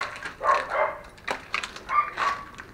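At night in a municipal cemetery in northern Celaya, a dog gives a few scattered barks or yelps at moderate distance, spaced irregularly over a quiet background with no talking.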